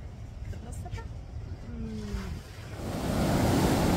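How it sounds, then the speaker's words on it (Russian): Sea waves break on a beach in Turkey amid wind, with the surf swelling into a loud, broad rush in the final second after a quieter stretch with a faint voice. "немножко терапии шумом волны"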